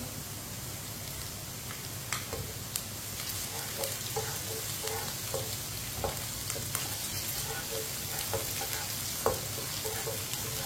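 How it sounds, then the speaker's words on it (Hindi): Okra and chopped green chillies fry in a pan with a steady, close sizzle, with occasional light scrapes and clicks of a stirring spoon and no voices. "सब्ज मिर्च को भी साथ ही पका लेंगे। आप देख सकते हैं भिंडी को मैंने 5-6 मिनट के लिए पका लिया है"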